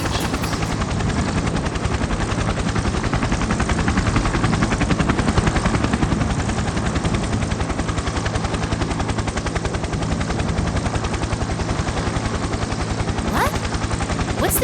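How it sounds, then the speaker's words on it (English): A helicopter in the Persona 4 Arena Ultimax video game whirs steadily, its rotor chop loud and continuous throughout, with a rapid pulsing beat that suggests gunfire, and no voices over it. "What's this helicopter doing here?"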